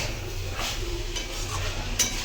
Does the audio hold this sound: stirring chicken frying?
yes